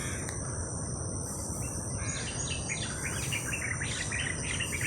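Birds singing at sunrise on a September morning, a dense chorus of chirps and trills over a constant insect drone, steady and moderately loud with no voices.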